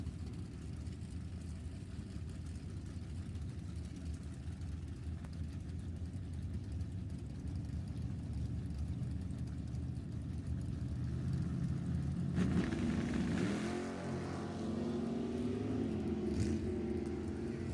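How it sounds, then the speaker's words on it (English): Drag racing motorcycles at an NHRA Summit Racing Series Division 7 E.T. Finals event rolling toward the start line: a steady low engine rumble throughout, swelling louder and rougher near the end as the bikes draw closer. "Bikes are starting to roll in."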